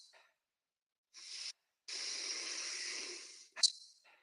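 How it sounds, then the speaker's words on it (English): Paced breathwork for mountain athletes, in through the nose and out through the mouth: a short sniff, then a long, steady breathy exhale, ending in a sharp quick intake, close and alone against silence. "I want those inhales in through your nose and the exhale through your mouth"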